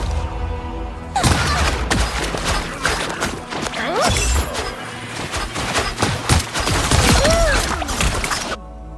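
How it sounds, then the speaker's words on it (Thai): In Marvel Rivals, a fish character's gunfire blends into a dense, loud stretch of shots, impacts and crashing effects lasting about seven seconds, with brief whooshing ability sounds mixed in. "ไอ้ปลานั่นยิงแรงแรงจัง"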